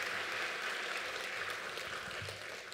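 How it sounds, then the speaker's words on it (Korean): A church congregation at an autumn revival service applauds the choir, giving a continuous wash of many hands clapping at once that holds steady and eases slightly toward the end, with no voices over it. "박수로 한번 격려합시다 우리."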